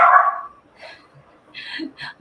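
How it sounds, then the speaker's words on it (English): A puppy gives a few short, light yips and whimpers from a room nearby, brief and scattered, with a moment of voice-like sound at the start. "Do you hear my puppies? I think he's barking."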